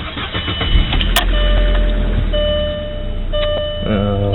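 A 1999 Volkswagen Passat engine cranks and catches, then settles into a steady idle with a faint ticking and a chime in the background.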